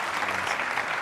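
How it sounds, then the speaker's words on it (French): Audience applause at a live awards show, a brief steady burst of many hands clapping together, fairly even and moderately loud. "Je pense qu'il faut applaudir ce grand monsieur-là qui est là"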